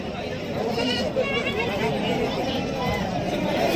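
Goats bleat repeatedly amid a busy crowd at a goat and sheep market in Sangola, India, with people talking and chattering close by over steady background noise.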